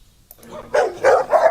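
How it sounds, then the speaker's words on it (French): A dog barks three times in quick succession, close and fairly loud, after a quiet start with faint background sounds. "Il est gentil, ton chien."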